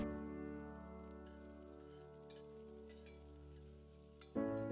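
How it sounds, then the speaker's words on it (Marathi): Finely chopped onion fries in oil and ghee in a pressure cooker, giving a faint, steady sizzling hiss beneath gentle background music, with a brief louder clatter near the end. "जिरे घातले व ते फुलल्यावर त्यामध्ये बारीक चिरलेला कांदा घालून भाजून घेतला"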